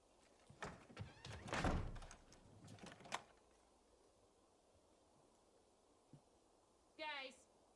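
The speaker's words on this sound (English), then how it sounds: "They're gonna close the door, close and lock the door." A door closing and being locked in a horror TV series: a cluster of thumps and rattles up front, a single sharp knock, and then a brief squeak later, all fairly faint.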